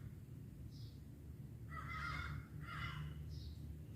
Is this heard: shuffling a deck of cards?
no